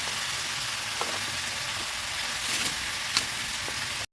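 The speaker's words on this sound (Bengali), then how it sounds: "মশলাটিকে ভালো করে কষিয়ে নেব" A spice paste of chili powder, ginger, garlic and onion fries in a pan, giving a dense, continuous sizzle with occasional faint clicks of stirring.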